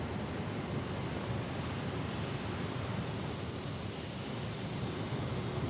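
Thai Airways Airbus A350 on final approach to runway 16 right at Sydney, a faint, steady distant jet rumble and hiss with no voices over it.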